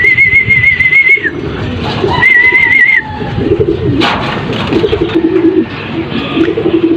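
Racing pigeons coo loudly and close by as they come back and land, with low throaty coos repeating throughout and a few whistle-like tones over them.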